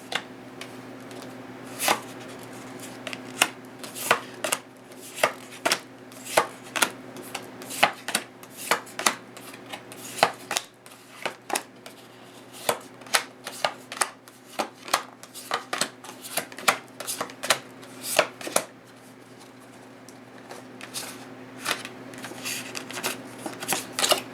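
A deck of tarot cards is shuffled up close, with rapid, crisp overhand slaps and riffles arriving in irregular bursts over a steady background hum, with no talking.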